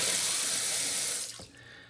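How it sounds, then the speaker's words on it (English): Water runs steadily from a repaired Delta bathroom faucet with replaced stems and seats, a loud broadband hiss that shuts off partway through, leaving a quieter tail. "I'm gonna go turn on the water and then test it"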